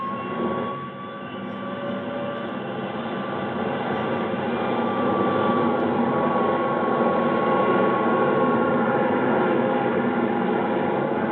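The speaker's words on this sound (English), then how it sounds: "Tower, this is Air National Guard Jet 4389. Request takeoff clearance." An Air National Guard jet takes off at night, giving a steady, continuous engine roar that swells slightly and holds through the run, band-limited like an old radio recording.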